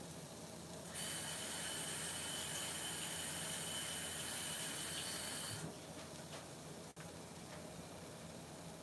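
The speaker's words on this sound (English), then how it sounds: "Okay, hold on, I'm gonna wash my hands." Tap water running steadily into a sink while hands are washed, a close, constant hiss that starts abruptly and stops after a few seconds, leaving a quiet room with a small clunk.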